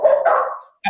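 Dogs barking indoors during a virtual meeting: one drawn-out bark or yelp, then a short sharp second bark, close and loud with no talk over them.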